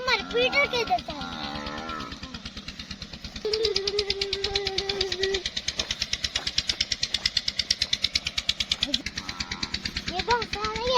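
A farm tractor engine idles with a steady, rapid knocking chug that keeps going throughout, while someone talks over it.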